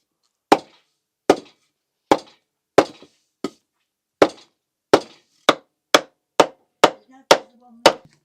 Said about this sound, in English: get a lump of wood and a hammer